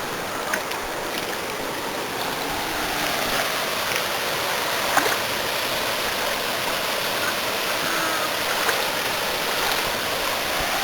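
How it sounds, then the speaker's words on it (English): River rapids on the low-water Verde River rush in a steady, loud, broadband wash, close by and uninterrupted, with faint splashes and no voices. "Some of these rapids are worse, man."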